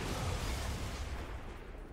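Explosion in the XCOM 2 War of the Chosen video game, a dull rumbling blast that rolls out and fades over a couple of seconds, fairly quiet with no talk over it.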